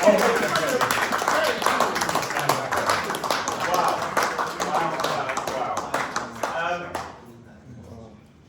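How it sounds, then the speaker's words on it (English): A rehearsal group claps in a lively round of applause, crisp individual claps packed close together, loud at first and thinning out before stopping suddenly, with someone speaking briefly among the clapping. "Can we give a round of applause, please?"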